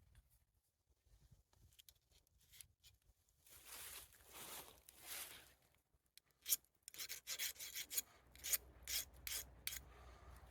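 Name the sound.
scraping a magnesium fire starter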